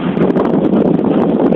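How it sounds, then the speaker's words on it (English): Wind blowing outdoors at a rural property during water carting, a steady loud rushing buffet against the microphone lasting the whole moment with no voices. "Flipping wind's blowing,"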